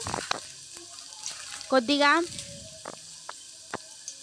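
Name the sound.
green chilies and curry leaves frying in hot oil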